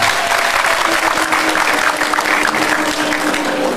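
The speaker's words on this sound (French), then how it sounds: "je vous demande d'applaudir très fort Madame Olga Ojele-Ojika." A large audience at an anniversary television show breaks into loud, sustained applause and cheering, dense clapping filling the whole stretch with a steady crowd roar.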